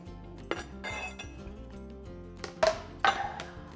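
A few bright clinks of dishes and utensils as food is added to a plate in a home kitchen, with scattered taps and two sharper ringing knocks near the end.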